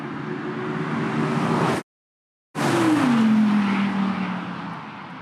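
Audi RS6 all-wheel-drive car racing hard toward a finish line, a loud sustained engine roar with a falling drone as it passes, cut by a brief gap of silence midway.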